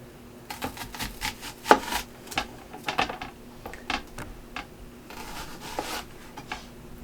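An onion is chopped on a cutting board for cheesy stuffed peppers, irregular light knife taps and scraping sounds, close and fairly quiet, with no talking.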